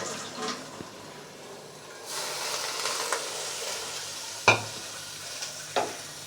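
Stirring green beans and potatoes in a pan with a steady soft scraping and faint sizzle, punctuated by a few sharper clinks of a spoon against the pan.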